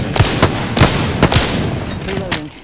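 Gunfire in the shooter video game Apex Legends, a series of sharp shots in quick succession over roughly three seconds, fairly loud, with a faint background of game sound.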